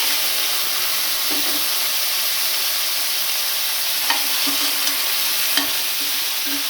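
Chopped tomatoes frying in a pan for Andhra tomato chutney, a loud continuous sizzle and hiss with a few soft spatula taps and clinks scattered through.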